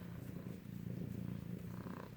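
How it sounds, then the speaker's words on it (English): Two kittens in a room purring loudly and close by, a continuous rhythmic low rumble that pulses steadily with each breath, with no talking. "They're both purring really loud,"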